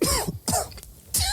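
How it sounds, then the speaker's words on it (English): A person coughs in a few rough bursts, separated by short pauses, close and fairly loud. "I literally was just coughing"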